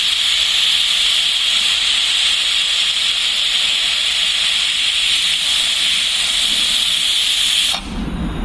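A pressure cooker full of brown rice and moong dal kichdi hisses out a loud, steady jet of steam close by for several seconds before the sound cuts off abruptly near the end.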